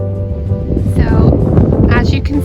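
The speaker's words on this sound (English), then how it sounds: "A little bit windy, but otherwise a really nice sunny day." Wind gusting across a snowy nature trail on a cold sunny day near Niagara Falls, a steady low rumble of buffeting against the microphone beneath someone speaking.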